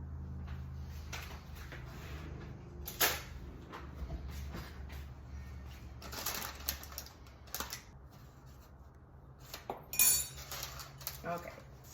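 A spoon presses down a mixture made without baking powder in a pan, giving faint scattered scrapes and clinks with a few louder knocks against the pan, close-up in a quiet kitchen.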